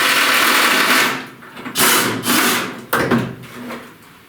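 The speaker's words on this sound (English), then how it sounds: "Look, impact wrench." An air impact wrench removes fasteners while a 1931 Ford Model A Fordor slant-window sedan is torn down. It gives several short, loud bursts of whirring rattle with brief pauses between them, close up.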